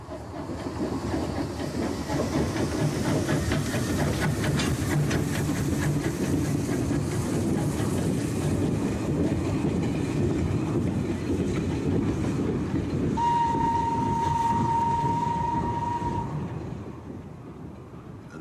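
An LNER J52 saddle tank steam locomotive working on the Middleton Railway in Leeds in 1990 gives a steady, loud rumble and hiss as it rolls past. A sustained whistle sounds near the end before the sound fades.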